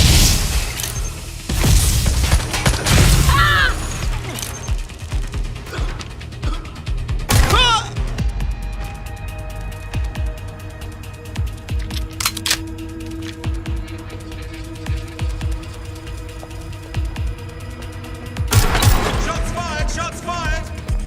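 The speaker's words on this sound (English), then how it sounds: "Shots fired! Moving to last. Reloading!" Gunfire and explosive booms in the video game Watch Dogs Legion, with bursts of shots and heavy impacts over a constant background of action-game sound effects, while characters shout and talk throughout.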